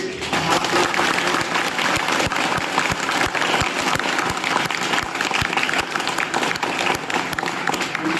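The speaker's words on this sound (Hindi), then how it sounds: "चलिए एक बार बहुत जोर से ताली बजाइए" Students in a college assembly hall at a merit certificate ceremony clap hard and continuously, a loud, dense roar of hands holding steady for several seconds, with a few sharper individual claps standing out.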